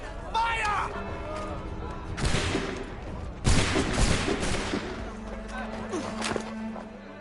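Gunfire volley in the video game History is Alive: loud broadband blasts crack out around the middle of the clip, with scattered lighter shots and background voices and a steady hum before and after.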